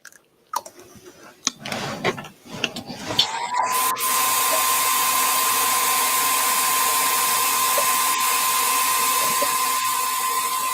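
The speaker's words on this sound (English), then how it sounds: "I'm just going to quickly dry this with a dryer." A hair dryer drying glaze on pottery starts after some clattering handling noises and then blows as a loud, steady whine that continues unbroken to the end.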